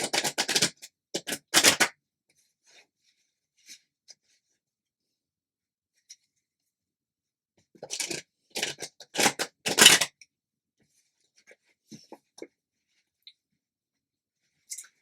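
Crisp riffling and slapping of tarot cards being shuffled on a table in two short flurries, separated by quiet with a few soft isolated taps.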